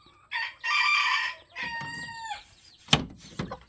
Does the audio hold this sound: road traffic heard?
no